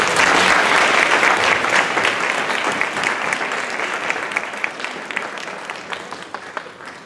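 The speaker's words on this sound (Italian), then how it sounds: "Un applauso per favore." Audience applause at a poetry reading event in Meda, Italy: dense, loud clapping from a crowd, steady at first and then slowly thinning and fading over several seconds.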